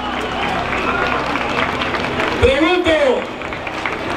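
Crowd in the street applauding at the end of a callejoneada, clapping under a voice speaking Spanish, with a brief loud whoop partway through.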